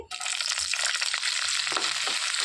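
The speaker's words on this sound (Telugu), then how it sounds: "ఆయిల్ వేడెక్కిందండి ఇందులోనికి సన్నగా తరిగి పెట్టుకున్న పచ్చిమిర్చి వేసేసుకొని వేయించుకోవాలి" Finely chopped green chillies hit hot oil for a coconut chutney, bursting into a loud, dense, crackling sizzle that holds steady throughout at close range.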